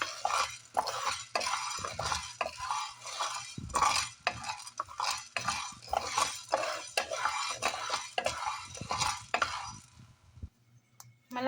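Mung beans toasting in a pan are stirred briskly, giving continuous close scraping and rattling with light clinks of the utensil, then the stirring stops and it goes nearly quiet.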